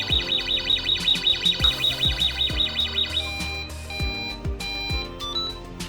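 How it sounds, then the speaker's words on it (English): A Blackline Safety worker safety device sounds its local alarm, a fast warbling electronic tone pulsing rapidly for about three seconds and then cutting out, with electronic beats and thumps underneath throughout. "Has a local alarm."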